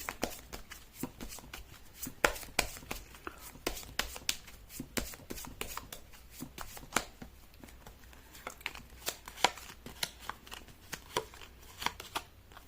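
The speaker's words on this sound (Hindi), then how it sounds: "कर लेते कार्ड की शफलिंग।" Tarot cards shuffled by hand: steady, rapid papery riffles and flicks close up, a continuous run of crisp card slaps with no talking.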